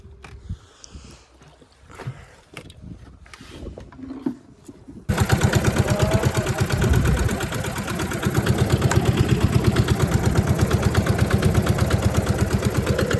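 A small boat engine runs on a tidal river in the Sundarbans during a fishing trip. For the first few seconds there are only faint knocks and rustles. Then the motor starts up loud and close, with a steady rapid putter that holds to the end.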